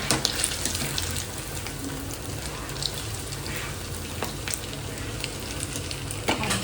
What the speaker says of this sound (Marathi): आता एकीकडे मी यांना वडे देते तळून खायला